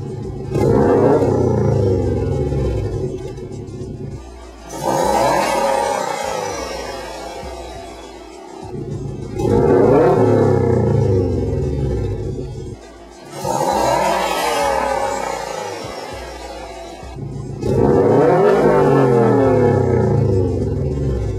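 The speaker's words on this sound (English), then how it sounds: "a sound comparison between the stock exhaust and the Crawford Gymkhana exhaust at different engine" A deep, throaty Subaru STI with a Crawford Gymkhana aftermarket exhaust drones steadily, its rumble swelling and easing in repeated cycles as engine revs rise and fall between idle and higher speeds.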